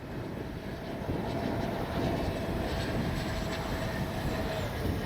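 Freewing 80mm A-10 Thunderbolt V2 RC jet making a high-speed pass, a steady ducted-fan whine and rushing roar heard at a moderate distance, rising slightly midway and holding to the end.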